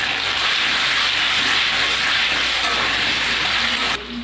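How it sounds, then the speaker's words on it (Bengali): Potatoes fry with salt and turmeric in a pan, giving a steady, close broadband sizzle that holds throughout and drops off sharply near the end. "আলুটা আমি ভালো লাল লাল করে ভেজে নেব"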